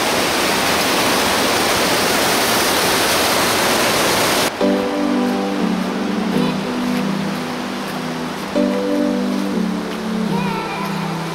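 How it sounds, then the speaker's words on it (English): A waterfall in Rocky Mountain National Park near Estes Park roars as a loud, dense rush for several seconds, then gives way to a quieter scene where a voice speaks over softer rushing water. "it's noisy when you're here sitting by a waterfall"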